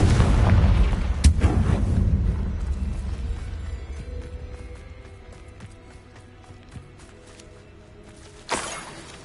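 Confringo spell explosion in Hogwarts Legacy, a heavy boom that rumbles and fades over several seconds, followed by a second sharp burst near the end.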